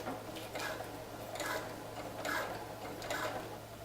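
A sewing machine backstitches a channel on a rain skirt, giving a few short bursts of rapid mechanical ticking separated by brief pauses, close and moderately loud.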